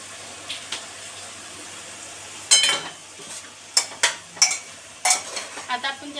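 Cauliflower stirred into pav bhaji in a pan, a run of sharp scraping and clinking spoon strokes against the metal, irregular and close, over a faint low hum.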